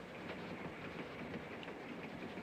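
A passenger train running on rails in a 1955 film, a steady, fairly faint rolling rumble with soft clickety-clack texture heard continuously from inside the carriage, no voices.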